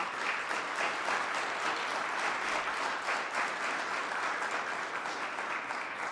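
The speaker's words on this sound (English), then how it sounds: "Please give these entities a round of applause." Sustained audience applause fills a council meeting chamber, steady dense clapping from many people throughout, close and loud with no talking over it.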